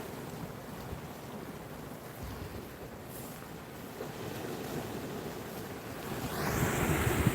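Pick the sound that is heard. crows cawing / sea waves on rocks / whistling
sea waves on rocks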